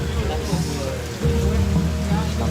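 Heavy rain pours down steadily outdoors, a dense close hiss with low rumbling that grows slightly louder partway through, with no clear talk.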